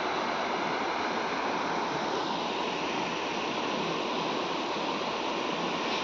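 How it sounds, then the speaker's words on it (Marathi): Plentiful water rushes through a farm channel beside a sugarcane field, a steady loud broadband roar with no pauses. "भरपूर पाणी वाहतं वाड्यातून."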